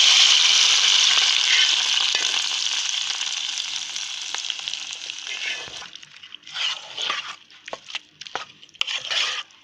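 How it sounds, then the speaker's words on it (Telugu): Hot tempering sizzles loudly at first, then fades as it is poured into bottle gourd curry, followed by intermittent clattering and stirring bursts near the end. "ఇప్పుడు ఈ సొరకాయ కర్రీలో తాలింపు వేసుకుందాం."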